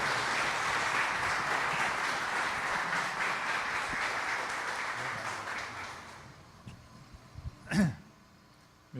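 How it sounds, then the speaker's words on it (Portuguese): A congregation at a Brazilian spiritist lecture applauds a guest speaker, dense sustained clapping that gradually fades out near the end, followed by a brief thump and a short voice. "Então eu gostaria muito que vocês aplaudissem o nosso querido irmão Júlio Damasceno na tarde de hoje."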